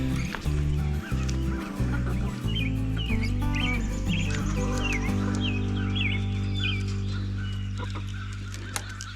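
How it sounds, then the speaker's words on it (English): Farm chickens on a fine morning cluck and call steadily, with goose-like honks and chirps mixed in, close and busy throughout; a person greets the hens over the noise. "if it's a nice morning, the chickens are downstairs waiting on us"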